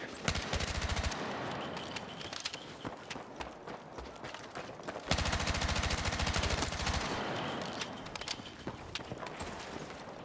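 Rapid automatic gunfire in the video game Battlefield 6, two dense sustained bursts separated by a short lull, loud and close with no talking.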